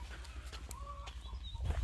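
A rooster crows faintly in the distance over outdoor background noise, with some brief clucking-like sounds.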